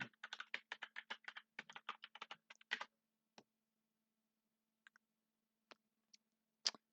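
Computer keyboard typing a username and password, heard as a quick, close run of light key clicks that thins into a few scattered taps and then pauses, quiet with no talk.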